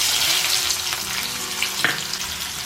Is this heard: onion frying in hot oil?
yes